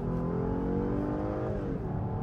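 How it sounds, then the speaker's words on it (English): A 2017 Cadillac XTS Platinum V Sport accelerates hard from about 34 mph, a loud, continuous engine roar with rising tones heard steadily from the cabin throughout. "I'll give it a quick acceleration here to show you guys how it works"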